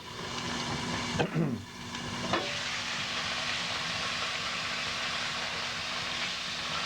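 A steak frying in oil in a hot pan gives a steady, close sizzle that runs through the whole stretch, with a brief clatter of handling near the start.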